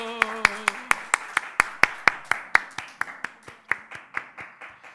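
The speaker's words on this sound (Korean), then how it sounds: "박수." A church congregation at a Wednesday evening service claps in a steady rhythmic burst, about twenty sharp, evenly spaced claps close by, with a voice speaking briefly at the start.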